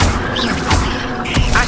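A fire spell is cast in Hogwarts Legacy: a loud, brief magical burst with a booming crackle and a whooshing flare, over about a second and a half.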